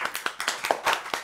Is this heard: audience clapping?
yes